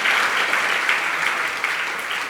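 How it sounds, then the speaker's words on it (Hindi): Strong, steady applause from a large audience at a Jain religious gathering with a monk at Gunayatan, Shikharji in Jharkhand, sustained and even throughout. "जरा जोरदार तालियां।"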